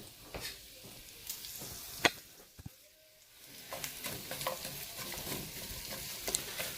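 Sliced peppers and onions sizzle in hot oil in a pan while a utensil scrapes and stirs them, with sharp clatters and a brief lull before the frying hiss picks back up.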